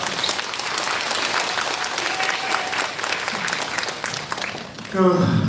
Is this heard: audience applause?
yes